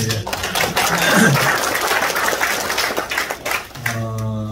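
Applause in a hotel banquet hall during a Korean peace summit rally, a dense crowd of hands clapping steadily for several seconds, then tapering off as a voice starts speaking at the end.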